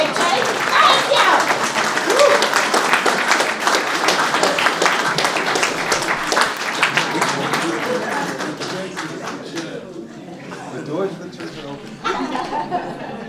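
An audience applauds at a celebration of residential renovations, the clapping full and dense at first and then thinning toward the end, with scattered chatter and a chuckle mixed in.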